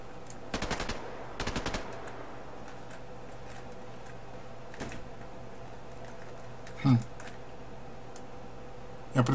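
Two quick bursts of rapid gunfire in the online shooter Survarium early on, then scattered sharp single shots and clicks over a steady low hum, with occasional louder pops.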